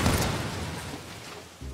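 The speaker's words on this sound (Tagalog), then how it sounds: "May sumabog, guys." A deep, rumbling blast fades slowly into a low roar, with a short thud near the end.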